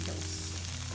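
Tomatoes for vegan paella sizzle in a pan, a short, steady, fairly close frying hiss over a low hum.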